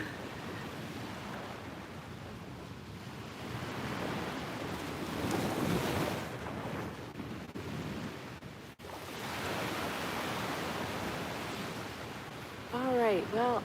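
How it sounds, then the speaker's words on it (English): Steady wash of ocean surf rolling in, a broad continuous roar with gentle swells, mixed with wind and some indistinct voices underneath. "I could just sit here and listen to these waves all day"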